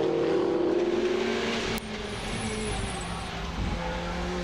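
Ferrari Challenge race cars circling the Valencia circuit in a 2017 Trofeo Pirelli race, engines droning loudly and steadily with a brief shift in pitch as one passes, a commentator talking over the engine noise.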